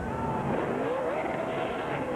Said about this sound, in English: A reverse burnout.